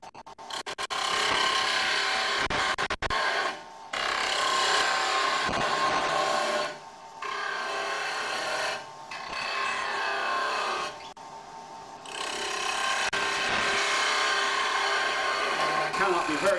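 A wood lathe spins a turning held in a Robert Sorby wobble chuck while a tool cuts it, a loud steady whir and hiss in several bursts separated by short pauses, close by.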